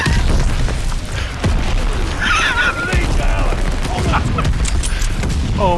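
Gunfire crackles through the Call of Duty Vanguard video game on PS5 in rapid bursts and booms, with dense overlapping shots and impacts close and loud. A voice is faintly audible under the barrage.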